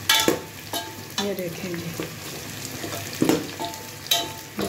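Whole cinnamon and cardamom sizzle as they drop into hot oil in a pot of aloo mutton gosht, with bursts of frying crackle and stirring clatter over a steady hiss, plus a brief spoken remark.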